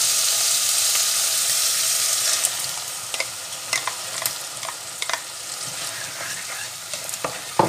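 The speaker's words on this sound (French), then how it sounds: "Maintenant, je vais mettre la tomate." A tomato goes into a hot frying pan while cooking a vegan meatball sauce, producing a steady loud sizzle that eases into quieter frying broken by scattered clinks and scrapes as it is stirred.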